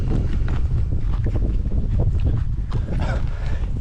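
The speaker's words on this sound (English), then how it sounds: "it's pretty windy" Wind gusting outdoors at Hanauma Bay, a loud rumbling buffet against the microphone that surges and flutters continuously, with no voices.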